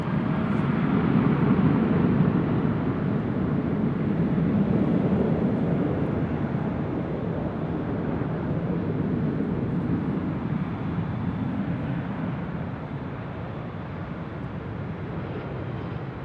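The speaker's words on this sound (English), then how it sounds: "Next arrival is Delta Airlines Flight 1692 coming in from Atlanta, Georgia in a 757-200" A Delta Airlines Boeing 757-200 jet without winglets, arriving at LAX from Atlanta, gives a steady, loud, broadband engine roar heard from a high hotel rooftop, slowly easing in level over about sixteen seconds, with no voices.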